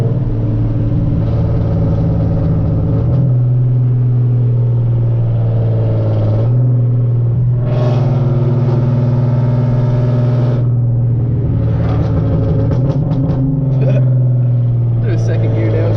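A modified 2013 Hyundai Genesis Coupe 3.8 V6 with full bolt-ons drones steadily through its exhaust, with louder revving surges and crackling pops on a downshift, heard up close from inside the car while people talk over it.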